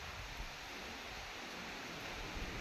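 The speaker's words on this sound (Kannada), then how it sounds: "ಸಖತ್ತ ಗಾಳಿ ಬಂತು" A broad, steady roar of wind rushes without pause, a dense rustling wash like gusts moving through foliage.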